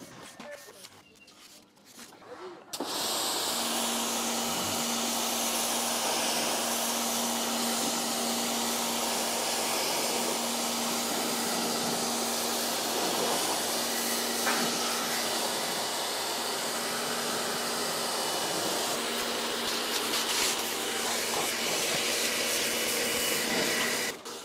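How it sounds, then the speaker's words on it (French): A high-pressure water jet rinses absorbent fabric inside a Porsche Panamera GTS, a loud steady hiss and spray running without a break for about twenty seconds after a quieter opening, with a faint tonal hum beneath. "je vais rincer au jet haute pression"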